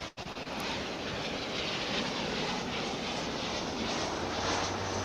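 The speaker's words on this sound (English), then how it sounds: "Cessna 208B Super Cargo Master, which is 25 years old, on its way to Tyler," A 25-year-old Cessna 208B Super Cargo Master turboprop at DFW International Airport gives off a steady, distant engine roar and broadband rumble that holds evenly throughout.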